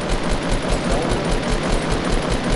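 Sustained automatic gunfire in a battle royale video game, loud, close and rhythmically rattling throughout, with no speech over it.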